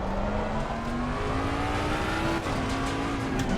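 A GT3 Mustang race car in a racing video game drones steadily at high revs, its engine pitch climbing and dipping slightly as it brakes and turns, with faint tire noise; loud and continuous with no talking.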